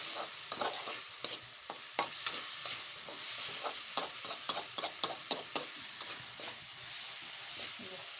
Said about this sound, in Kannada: ಸ್ವಲ್ಪ ಹೊತ್ತು ಕುದಿಸ್ಬೇಕ್ರಿ ನೀವು